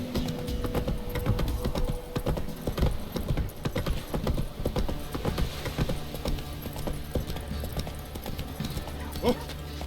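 A horse gallops in The Witcher 3, its hooves clip-clopping in a steady, close rhythm beneath game sounds and a voice speaking.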